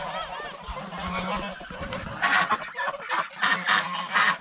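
Geese on a small farm raised alongside ducks honk loudly and repeatedly, a near, busy chorus of overlapping calls that grows harsher and more insistent toward the end.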